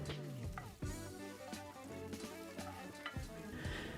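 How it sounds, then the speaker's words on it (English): Garlic and ginger sizzling in hot chili-flake-infused oil for orange chicken, a steady close frying crackle with intermittent clinks and stirring knocks, no talk. "add the garlic and ginger and saute for a few seconds"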